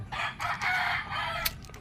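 A rooster crows loudly and close by, a long drawn-out call followed by a brief cluck, with no one talking.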